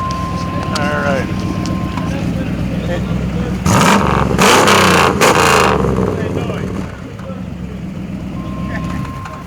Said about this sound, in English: Can we hear how the car sounds?